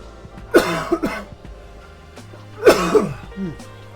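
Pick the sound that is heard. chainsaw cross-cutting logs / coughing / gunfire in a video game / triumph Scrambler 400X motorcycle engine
coughing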